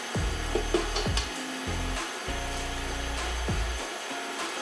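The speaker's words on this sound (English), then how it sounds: "You're gonna set your mixer on medium speed, and you're gonna add 1 egg." A stand mixer set to medium speed mixing keto cookie dough with an egg: a loud, close motor whir with a pulsing rhythm that stops and restarts several times.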